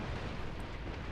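Cannon fire in the video game Shogun 2 with an immersive mod, heard as a dense, continuous roar of booming artillery blasts that blend together into one heavy, rumbling wall of sound.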